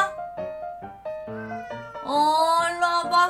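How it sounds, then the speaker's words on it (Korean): A fat house cat meows several times in short, separate calls, then rises into a louder, drawn-out, complaining yowl, close to the microphone with no talking. "우리 집 뚱보 고양이."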